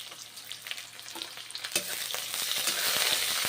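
Onion and garlic frying in hot mustard oil with five-spice seeds, a soft crackling sizzle that grows louder and denser toward the end, with occasional stirring clicks.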